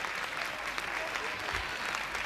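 An audience applauds an orchestra conductor at a live dance-band performance, with steady, dense clapping that continues without pause throughout.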